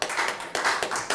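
An audience at a Roswell school board meeting claps in a brief burst, a handful of crisp overlapping hand claps heard up close for about a second.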